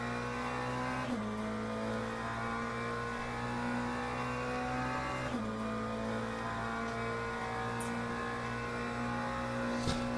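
Race cars in the sim racing game Le Mans Ultimate drone steadily at high revs, the engine pitch dipping sharply twice during gear changes, with a continuous moderate whine throughout.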